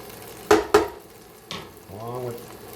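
Garlic tossed into a hot pan for a chicken Marsala sauce, landing with two quick loud sizzling clatters, then a softer scrape and a brief burst of sizzle, with a voice heard briefly toward the end.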